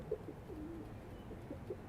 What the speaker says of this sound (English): The pigeons are, you probably hear them. Can you hear them?